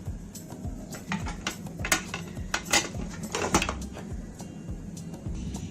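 A metal pressure cooker lid and whistle are fitted on a cooker set over a flame while cooking beef korma, giving close, repeated clinks and clatters of metal on metal, irregular and fairly loud, with no speech.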